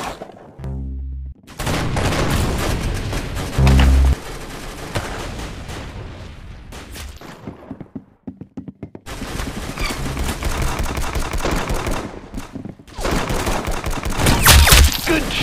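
Loud, dense gunfire fills a round of the Roblox shooter Arsenal, with rapid automatic bursts and sustained volleys broken by a brief lull before resuming, and no voices over it.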